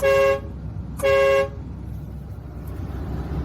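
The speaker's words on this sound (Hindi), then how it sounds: "दोबारा इसी बटन को जब आप प्रेस करेंगे तो ये बड़ा हॉर्न है" A HOWO Sinotruk NX430 truck's big horn blasts twice, two loud, steady tonal honks of about half a second each with a brief gap between them, close by over a low engine idle.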